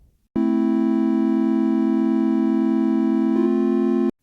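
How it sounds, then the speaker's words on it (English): A Massive synthesizer oscillator holds a steady, loud, buzzy tone whose waveform sits between square and sawtooth, starting abruptly, sustaining for about four seconds with a slight change near the end, then cutting off cleanly. "wave, which sounds like a cross between a square wave and a sawtooth wave"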